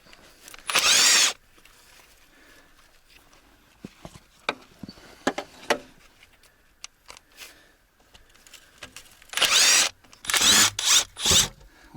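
A Makita power tool pulls bolts off an old ZIL crane truck in a garage, with a few short, loud whirring bursts between scattered clanks and taps of metal.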